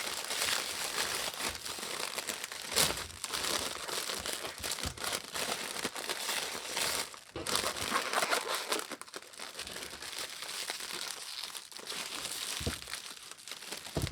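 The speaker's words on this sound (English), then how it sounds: "Now we're going to adjust the sides and tape them down." Close crinkling and rustling of wrapping material as the sides of a makeup gift basket are adjusted and taped down, continuous crackles and scrapes with a few sharper tearing bursts, no talking.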